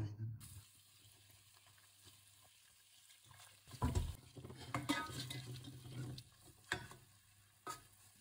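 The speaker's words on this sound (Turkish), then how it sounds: "Tereyağında unu kavuracağız." Flour toasting in butter and a little oil in a pan for Adana-style tongue soup, with soft sizzling, a spoon scraping and stirring, and a few sharp clinks of utensil against the pot.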